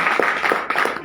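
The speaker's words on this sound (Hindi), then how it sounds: "एक बार तालियां इन सभी के लिए।" Audience clapping for a team at a company welcome event with a red-carpet greeting, a short burst of applause with dense hand claps throughout, moderately loud and steady.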